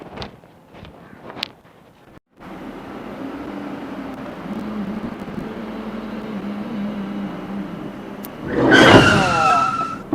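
A car driving with a steady engine drone, then tires skidding loudly near the end with a sharp squealing burst, preceded by a few brief knocks and a short silence.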